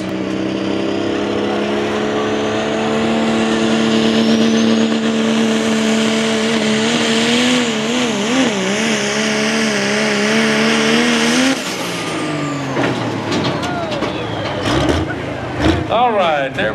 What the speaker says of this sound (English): Dodge truck called the Sound of Madness.